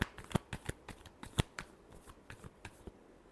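Tarot cards being shuffled close up, a quick series of crisp, irregular riffles and flicks that fade toward the end.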